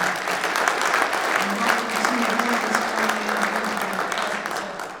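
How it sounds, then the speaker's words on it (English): Applause from members at an annual meeting, a steady dense clapping crowd sustained for several seconds before thinning slightly at the end. "So I want to give them a round of applause for being such great partners to me."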